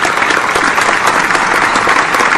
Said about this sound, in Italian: Facciamo un applauso, vai!